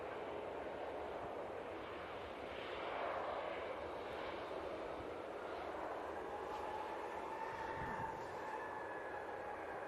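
An Aegean Airbus A320 at Manchester Airport, its engines a distant, steady broadband roar that holds faint and even throughout.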